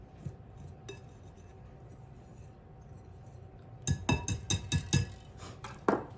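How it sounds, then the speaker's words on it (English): Chipped beef and gravy is stirred in a pan: a utensil knocks and clinks rapidly against the pan in a burst of about seven close, sharp taps, after quieter background noise. "make sure you mix it up really good"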